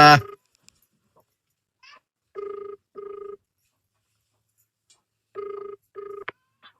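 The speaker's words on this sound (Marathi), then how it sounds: "फोन उचला" A telephone rings in short electronic tone bursts, grouped in pairs with quiet gaps between, fairly clear and close.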